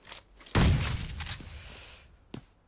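Grenade bomb detonating in a battle royale game, a single heavy boom with a rumbling tail that fades over a second or two, followed later by a short sharp crack.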